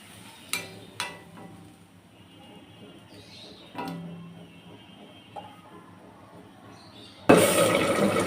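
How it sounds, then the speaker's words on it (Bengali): Curry broth poured into a pan of green jackfruit curry: a few light clicks and clatters, then a sudden loud rushing splash close by that fills the last second. "এবার ঝোল দিয়ে দেব পরিমাণ মতো।"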